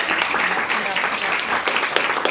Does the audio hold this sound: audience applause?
yes